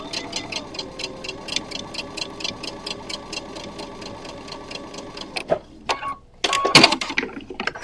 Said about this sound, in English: And it will start sewing on there without sucking that little corner.